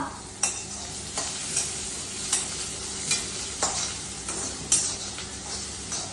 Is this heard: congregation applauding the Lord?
no